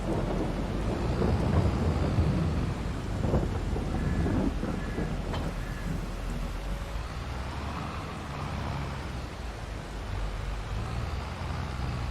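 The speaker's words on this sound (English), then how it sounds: "The thunder sounds pretty good as well" A thunderstorm in the Farming Simulator 22 video game, with deep rolling thunder and steady rain filling a twelve-second stretch, loud and continuous with a brief sharp crack in the middle.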